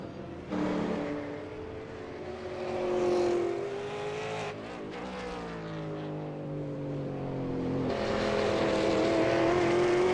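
A V8 Supercar race car laps the Oran Park circuit in a racing video game, its engine droning and revving through the gears with rising and falling pitch, steady and fairly loud with no talking.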